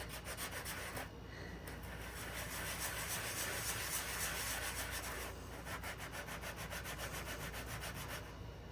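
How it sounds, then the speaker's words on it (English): Steady rubbing scrape of a sanding block worked back and forth over the back of a polymer clay piece, continuous and close, with no talking. "I'm just gonna do a rough little sand on the back"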